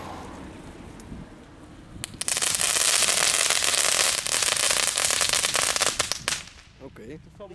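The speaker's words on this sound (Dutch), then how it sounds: "Oké. Knetterkegel." A crackling cone firework, a consumer category 1 type, bursts into a dense, loud stream of rapid crackles that lasts about four seconds before dying away, with faint voices nearby.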